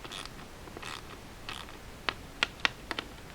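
A 9/16 socket wrench tightening nuts on a mobile base for a Harbor Freight parts washer, heard as a few sharp, quiet clicks and ratcheting ticks spaced out after softer handling noise.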